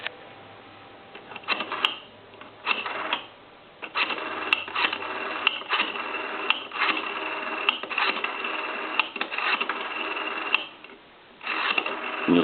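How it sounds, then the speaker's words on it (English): A Southwestern Bell payphone gets dialed, giving a close series of short mechanical clicks and tones in separate bursts with brief gaps between them, steady and moderately loud. "I'm going to go ahead and dial the numbers."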